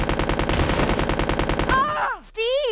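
Rapid automatic gunfire from Resident Evil Code: Veronica, a loud steady rattle of repeated shots lasting nearly two seconds before cutting off, followed by a short cry and a falling tonal game sound.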